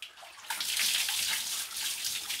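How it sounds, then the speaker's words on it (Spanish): Water pours steadily over a dog during a home bath in El Salvador, a broad splashing rush that starts faintly and swells loud after half a second, continuing without talk. "se le echa agua otra vez"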